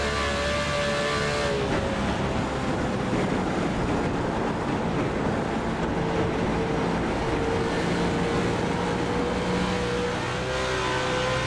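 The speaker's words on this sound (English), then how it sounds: "Listen in car to Adam Walker. He's the race leader" In-car sound from a NASCAR Cup Series race car at Charlotte, on worn tyres: a loud, steady engine drone and road roar throughout, with pitch shifting as the driver works the throttle, and no talk.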